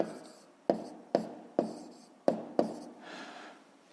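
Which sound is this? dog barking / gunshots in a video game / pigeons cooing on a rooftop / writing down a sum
writing down a sum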